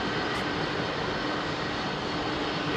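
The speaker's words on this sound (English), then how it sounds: "He's going to light those engines up." A jet airliner's engines spool up for departure on runway 27R at London Heathrow, a loud, steady, broadband roar held close and constant throughout with no voices.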